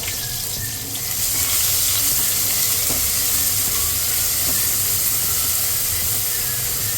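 Onion drops into a hot tempering of curry leaves, bursting into a loud, steady, close sizzling hiss after about a second that continues without a break.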